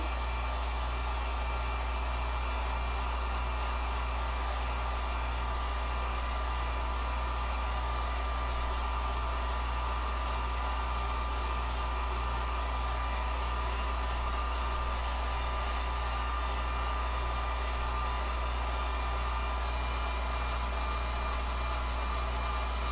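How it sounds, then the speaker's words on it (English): A heat gun or hair dryer blows steadily at close range for a long stretch, a loud constant whooshing drone with a faint rhythmic flutter, drying acrylic paint on a back-to-school sign. "when you're using a heat gun or even a blow dryer, make sure that you put it on the low heat setting"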